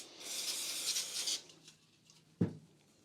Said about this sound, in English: I'm going to give the valve a good clean down with some brake cleaner as well.